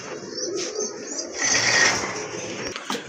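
A pair of pigeons, kept as birds for sale, gives a few soft, low cooing calls at close range amid faint rustling, quiet overall with a brief louder stretch in the middle.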